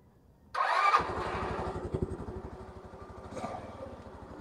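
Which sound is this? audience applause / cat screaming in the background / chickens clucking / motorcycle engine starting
motorcycle engine starting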